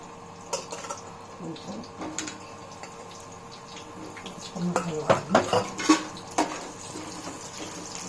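Bitter gourd pieces cooking in a pan, stirred with a utensil: metallic scraping and clinks against the pan, sparse at first, then a cluster of louder, quicker knocks.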